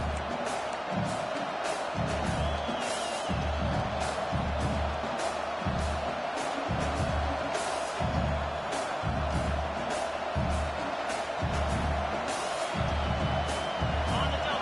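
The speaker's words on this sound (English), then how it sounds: "the crowd coming to life here, trying to help this defense down in the red zone" A football stadium crowd roars steadily for the defense in the red zone, a dense, continuous wall of cheering with rhythmic surges, heard at a distance under a commentator's voice.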